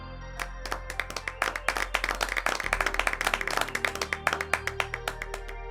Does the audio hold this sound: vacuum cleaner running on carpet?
no